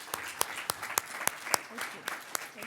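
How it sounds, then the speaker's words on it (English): Sparse applause at an arts and business awards ceremony in Surrey, with a handful of distinct sharp claps spaced irregularly over a quiet murmuring room rather than a full ovation. "Everyone, another round of applause for the inspiring Dave Babych"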